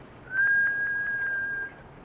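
A single steady whistled tone, blown through pursed lips on an exhale during a gentle hatha yoga breathing exercise, held for over a second, close and clear with no talking.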